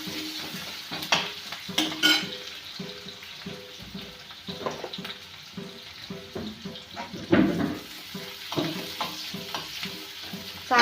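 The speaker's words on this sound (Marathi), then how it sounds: "चांगला परतून घ्यायचा." Onion sautéing in a hot pan, stirred repeatedly with a spoon, giving a steady close sizzle broken by regular scraping strokes against the metal, with no talk over it.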